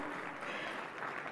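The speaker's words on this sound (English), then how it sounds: "Let's have a big round of applause" A dense wash of audience applause at a Hyundai Verna car launch event, many hands clapping steadily throughout the brief moment.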